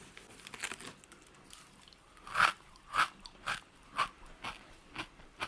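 Someone bites into crunchy shredded pastry strands, producing a series of about five distinct sharp crunches spaced roughly half a second apart, close to the microphone with crinkling between bites and no speech.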